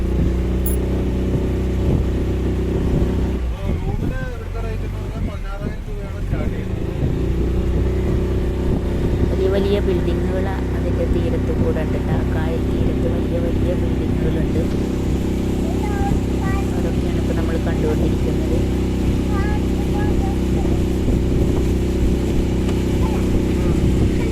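A motorboat engine drones steadily and loudly while travelling past a houseboat on the backwaters at Kochi, a low continuous rumble throughout, with people talking over it.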